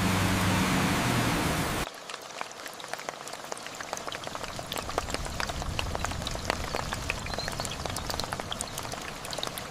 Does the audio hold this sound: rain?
yes